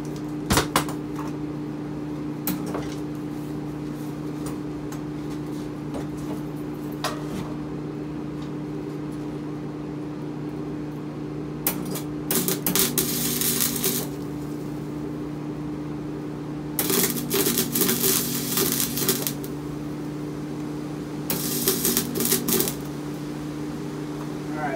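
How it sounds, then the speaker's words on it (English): A welder lays welds on a mower, giving several bursts of loud crackling buzz separated by quieter hum, with an earlier sharp click and a steady background drone. "we're gonna see if this thing has good enough ground to start making some welds"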